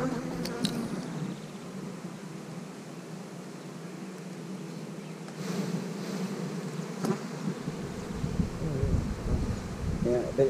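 Honey bees buzz steadily around an open hive during an inspection, a dense close drone filling the whole stretch with occasional sharper passes near the microphone.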